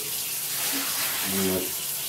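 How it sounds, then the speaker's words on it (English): Cold water pours steadily from a tap, a continuous hissing splash at moderate volume that swells slightly toward the end. "it's cold water, as cold as comes out of the fire"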